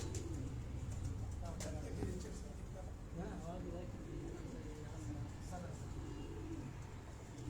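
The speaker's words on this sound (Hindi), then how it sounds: "अब ये सारे जो कबूतर हैं आपको ये ब्रीडर कबूतर शाह साहब जो दिखा रहे हैं" Breeder pigeons in a loft coo softly and repeatedly, low rolling calls at close range over a quiet background, with faint chirps mixed in.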